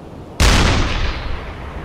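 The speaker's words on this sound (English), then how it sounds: "Go ahead and get the deck gun going." A submarine deck gun fires once in the UBOAT video game, a sudden loud boom with a long rumbling tail that fades slowly.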